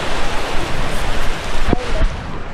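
Heavy rain pours down steadily and close in a flood-hit home, a dense, constant hiss filling the whole stretch, with a brief faint voice and a couple of knocks under it.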